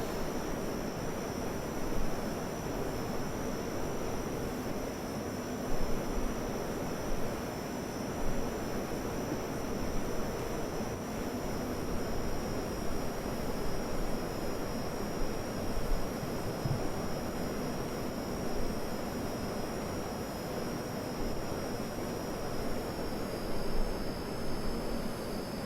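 Steady broadband jet roar of a Tornado GR1 in flight in the Prepar3D flight simulator, a continuous even rushing drone with a faint high whine, running unbroken with no talk.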